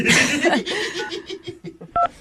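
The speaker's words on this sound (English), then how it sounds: "You about ready to give him a call, see if we can get him on the phone?" A telephone number is dialed after giggling and laughter, ending in a few short, clear keypad tones close up.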